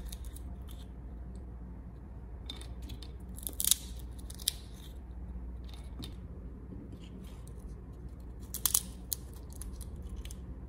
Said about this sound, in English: I'm peeling each one quickly and easily.